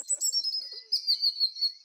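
A small bird chirps on a California golf course with a quick run of short, bright tweets and a few faint lower notes, heard clearly against a quiet background.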